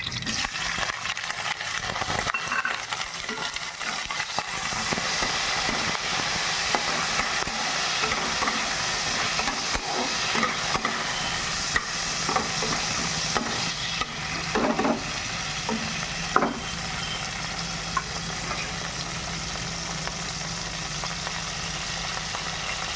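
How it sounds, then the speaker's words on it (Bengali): Mustard seeds and dried red chillies crackling in hot oil as mango pieces fry, a steady close sizzle with scattered sharp pops and occasional stirring, with no talking. "সর্ষে ফাটছে, এবার আমি আমগুলো ধুয়ে রেখেছিলাম এটা দিয়ে দিচ্ছি"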